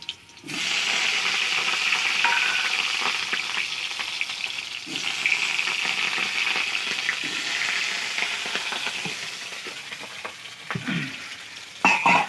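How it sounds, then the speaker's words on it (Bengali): Potatoes frying in hot oil in a home kitchen give a steady, loud crackling sizzle that starts abruptly and continues throughout, with occasional stirring clatter. "তেল গরম হয়ে গিয়েছে। আলুগুলোকে তেলে ভেজে নেবো।"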